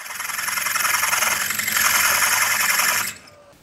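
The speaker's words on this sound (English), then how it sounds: "then I'll switch to a drill bit to drill out the threads" A power drill whines steadily at high pitch for about three seconds, shifting slightly in tone midway, then cuts off abruptly, a drill bit drilling out threads in a hole.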